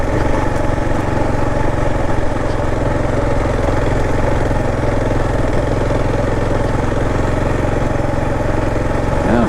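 A Kawasaki KLR 650 and a Royal Enfield Himalayan climbing a chunky dirt trail, their engines droning loud and continuous with a rough, steady mechanical rumble, close to the microphone, with no break throughout.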